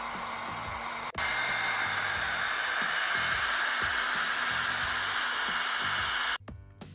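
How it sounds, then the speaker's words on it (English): A Feekaa ionic hair dryer runs on high speed with a loud, steady, broadband blowing roar that switches on after about a second and cuts off near the end, heard alone. "So using the high speed to blow dry the hair"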